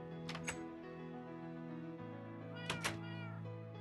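Cat meows in a blocky survival video game, two short high calls about two seconds apart over a steady droning background tone.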